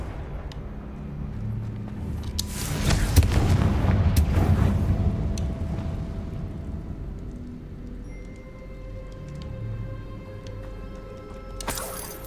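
Explosion from the Confringo blasting spell in Hogwarts Legacy, a heavy, broad roar swelling a few seconds in and rumbling for a while before settling into low ambient game sound with a sharp hit near the end.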